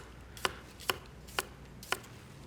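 Four evenly spaced, crisp knife chops on a cutting board as a cucumber is sliced into strips in a MasterChef Australia kitchen, each cut sharp and close against a quiet background.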